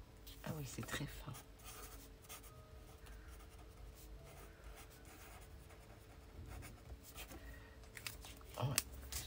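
A colour pen scratches and scribbles across a small piece of paper, soft steady scratching close by with a few louder rustles, under quiet room noise.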